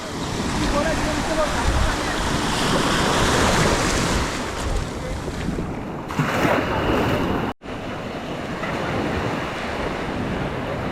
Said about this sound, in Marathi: तुम्ही लाटा बघू शकता केवड़ा जोरत लाटा येतात संध्याकाळच्या वेळेला